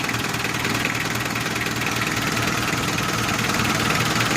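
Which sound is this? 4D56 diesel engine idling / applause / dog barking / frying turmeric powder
4D56 diesel engine idling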